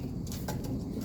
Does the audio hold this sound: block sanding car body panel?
no